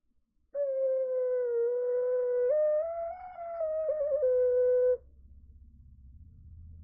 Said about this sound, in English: potato ocarina. It is Legend of Zelda themed.